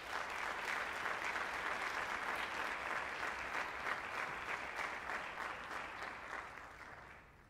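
A chapel audience applauds to welcome a guest speaker, a sustained, dense clapping from many hands that holds steady for several seconds before gradually tapering off.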